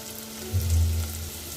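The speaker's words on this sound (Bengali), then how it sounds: "পেঁয়াজ রসুন চিংড়ি মাছ দু তিন মিনিটের মতো ভাজি করে নেব" Onion, garlic and shrimp frying in a pan with whole cumin, a steady close sizzle with a brief louder low rumble midway, no voices.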